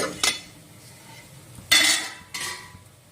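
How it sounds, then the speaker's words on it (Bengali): A metal pot lid lifted off a pan of boiled spine gourd, with a light clink near the start, then two sharper metallic clatters and scrapes close by in a quiet kitchen. "15 মিনিট পরে ঢাকনাটা খুলে নিলাম।"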